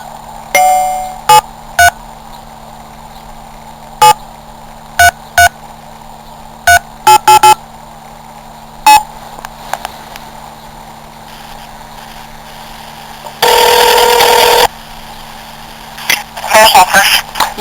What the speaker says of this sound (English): I'm dialing her number now